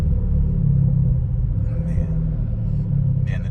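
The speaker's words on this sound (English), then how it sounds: "the downshifting is a little bit more aggressive too now" A Mercedes SL550 with an ECU and TCU tune rumbles loudly from inside the car, a low, steady engine drone with a slight dip as it downshifts.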